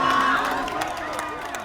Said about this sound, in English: Now there's security and a crowd waiting to see him.